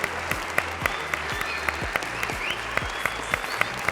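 A crowd at a martial arts gala in Meudon claps enthusiastically, a full, lively round of applause with distinct sharp claps standing out from the dense wash, steady for the whole stretch.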